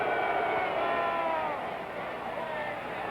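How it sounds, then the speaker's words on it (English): Football stadium crowd at the 1962 AFL Championship between the Dallas Texans and Houston Oilers, a broad distant roar of many voices that swells and then settles slightly, filling the whole stretch without pause. "Bourne asking the crowd to quiet down"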